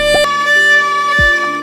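A bowed string instrument sustains a single note whose vibrato sounds unstable and thin because the fingertip is not fully on the fingerboard, a brief, close, steady tone with a few small bumps.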